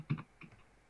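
A few soft keystrokes on a computer keyboard being tested for quietness, two quick muted taps followed by a fainter click, brief and close.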